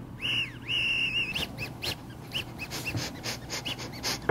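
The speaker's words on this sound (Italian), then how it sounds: "la sindrome del naso che fischia è tornata" High, thin whistling tones come from a nose during breathing, two longer wavering whistles followed by a string of short squeaky bursts, close and clear.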